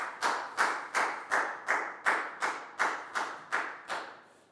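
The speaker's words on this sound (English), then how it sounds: "So high five and a big round of applause for Lackow" A classroom group claps in a steady, even rhythm of about ten sharp claps, close and clear, for a student, with no talking over it.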